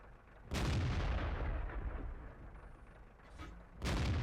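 Two heavy booming tank gun shots firing premium rounds from an E-25 tank destroyer in World of Tanks, each a loud close blast with a long rumbling decay, spaced about three seconds apart.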